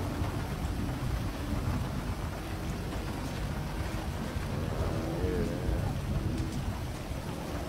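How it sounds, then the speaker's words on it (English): Rain falling outdoors during a car wash, a dense, steady hiss and patter filling the whole stretch at a constant level, with a faint low rumble beneath it. "Hey, it's fucking raining."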